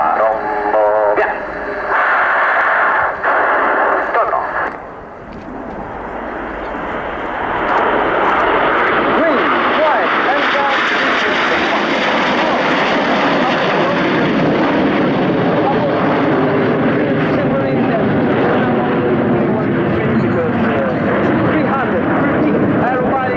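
Italian Frecce Tricolori MB-339 jet aircraft flying an aerobatic display, a loud continuous jet roar that swells and sweeps overhead, steady and close for most of the pass.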